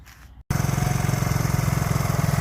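A 1987 Suzuki SP200 dual-sport motorcycle engine idles nearby with a steady, throbbing putter that starts abruptly after a brief pause and holds an even rhythm.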